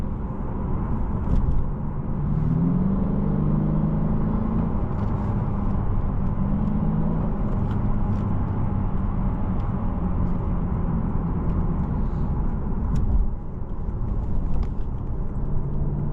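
2020 Lexus RC 350 F Sport heard from inside while driving and cornering: a steady low road and engine rumble with a rising and falling drone, continuous and fairly close, with no talk.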